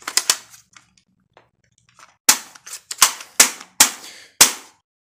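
Sharp, loud plastic-and-metal clacks come in quick clusters as a Mission First Tactical magazine is worked into a closed-bolt gun, with a few faint taps between them.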